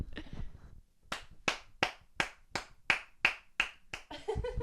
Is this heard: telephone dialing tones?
no